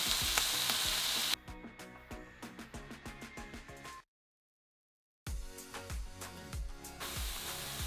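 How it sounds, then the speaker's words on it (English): Onions and tomatoes frying in a pan sizzle up close, broken by a series of sharp clicking stirs, a stretch of silence, then more sizzling and stirring. "we're going to cook this down until my tomatoes have wilted down"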